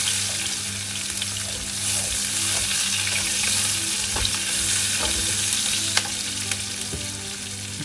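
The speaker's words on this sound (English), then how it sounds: "now the sambal udang, stir fry with the prawn" Sambal udang, a chili paste with prawns, is stir-fried in a pan, giving a steady loud sizzle and frying hiss with scattered clinks and scrapes of the spatula throughout.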